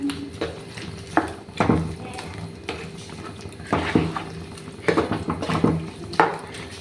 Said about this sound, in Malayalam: ഇനി ആയിട്ട് നന്നായിട്ട് മിക്സ് ആക്കാം